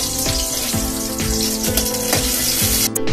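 Parwal (pointed gourd) and potatoes frying in a pan, a steady, loud sizzle with faint rhythmic stirring scrapes and no voices.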